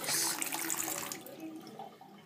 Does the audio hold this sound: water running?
yes